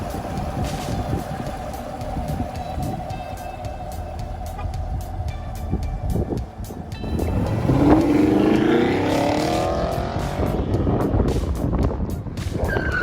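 A 2019 Camaro SS with its 6.2-liter engine runs steadily, loud and close, then swells into a rising rev in the second half before settling back to a strong rumble.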